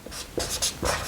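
Pen or marker writing out a chemical formula for melamine formaldehyde resin, a few short scratchy strokes in quick succession, close and fairly clear.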